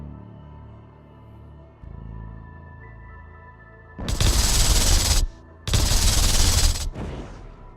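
Gunfire in the space strategy game StarDrive comes as two long, loud bursts of rapid fire, each about a second long, after a quiet stretch of low hum.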